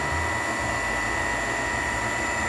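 A turbo vacuum pump powered through a variable transformer spins up, producing a steady whirring whine with a constant high tone, loud and close, with no talk.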